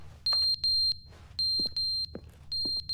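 Fire alarm in a video game ringing in loud repeated high electronic bursts of about a quarter second each, with short gaps and faint game sounds between them.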